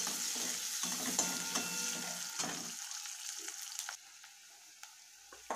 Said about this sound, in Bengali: আর এদিকে দিয়ে দিচ্ছি পেঁয়াজ লঙ্কা আর সর্ষের তেল